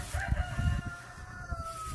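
A rooster crows on a farm, a drawn-out call heard at moderate distance over low thumping background noise.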